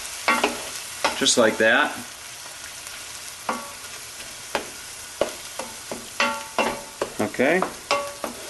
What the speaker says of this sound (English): And so once you have this going, you just stir it real well